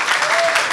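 A church congregation at a French-language service applauds in a short, dense burst of clapping honoring a long-serving minister, with voices mixed in.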